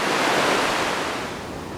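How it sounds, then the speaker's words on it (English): The Spokane River roars in a dense, steady broadband rush of fast-moving water, loud and continuous, with a slight easing toward the end and no voices. "The river may be roaring"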